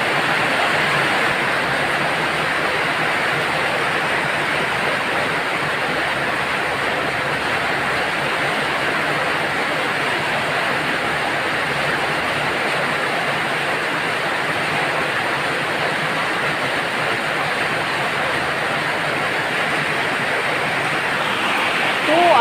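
Rain falling steadily on a house roof, a dense, even hiss that stays constant and fairly loud throughout with no breaks.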